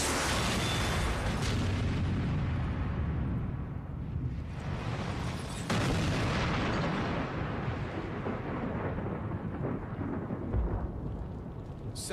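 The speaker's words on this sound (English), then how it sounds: "We finally had a very aggressive ignition at" Fuel vapour set off by a 75 millijoule spark in an ignition test explodes into a loud, sustained, rumbling roar that lasts several seconds before slowly tapering off.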